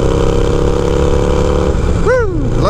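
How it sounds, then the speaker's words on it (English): Loud, close Harley-Davidson motorcycle exhaust with a stage one setup, a deep steady rumble that rises in a quick rev near the end before settling again. "Love the sound of this exhaust."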